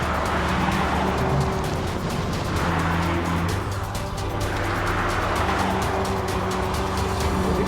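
A Mazda MX5 sports car runs a fast timed lap on a track, its engine droning loud and steady with rising and falling revs through gear changes and corners, tires hissing on the tarmac, with no talk.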